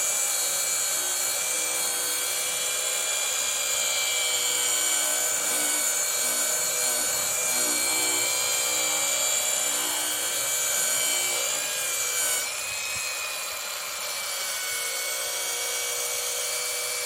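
A steady, close rubbing and scrubbing against metal exhaust tips during polishing, a continuous bright grinding texture with a slight shift near the end and no voices.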